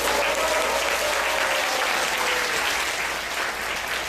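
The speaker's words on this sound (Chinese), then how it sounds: "掌声鼓励一下。" Audience applause at a live magic show, a dense, steady clapping from a crowd that holds loud and even for the whole stretch, tapering only slightly at the end.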